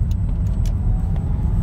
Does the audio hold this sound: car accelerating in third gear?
yes